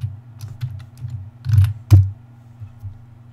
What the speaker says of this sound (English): Oh yeah, you can probably hear my keyboard.